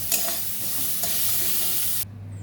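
Kharkol leaves crackle and sizzle loudly in a hot pan after frying, a steady close hiss with a stir or two that cuts off abruptly as the gas is switched off.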